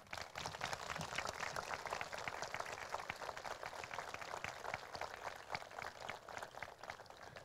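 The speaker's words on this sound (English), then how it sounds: "Let's give them all of applause." Faint, distant applause for elementary school garden volunteers and donors at a community garden event, a soft continuous patter of many hands heard from far off.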